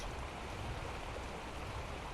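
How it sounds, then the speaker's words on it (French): Waterfall in the game ARK Ragnarok, heard from behind the cascade: a steady, dense rushing of water, even and unbroken, close and filling the scene with no voices. "Je suis derrière la cascade."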